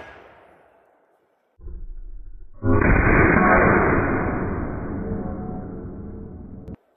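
A single powerful elephant rifle shot fired outdoors: a loud, close blast that rolls into a long, roaring, rumbling tail lasting several seconds before cutting off abruptly.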